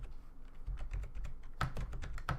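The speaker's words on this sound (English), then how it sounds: "I was just typing them really fast." Rapid keystrokes clatter on a computer keyboard, a dense run of close, quiet clicks with a few sharper taps near the end, and no voice over them.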